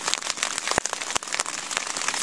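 Steady rain patters on surfaces in the April taiga, a continuous dense crackle of drops with a few sharper, louder hits standing out.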